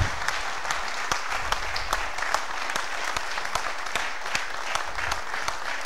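Steady applause from an audience welcoming horseback archer Lajos Kassai to an inspirational evening talk in Szekszárd, dense clapping holding at an even level throughout with a few sharper individual claps standing out.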